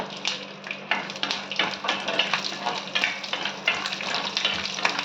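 Garlic frying in a pan for garlic chutney, a steady close sizzle with crackling bursts and occasional scraping stirs, no voices.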